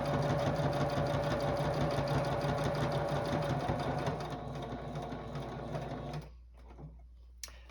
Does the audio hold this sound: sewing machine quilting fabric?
yes